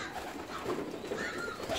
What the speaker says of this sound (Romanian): Și o să intrăm în volieră să vedem ce mai fac porumbeii noștri.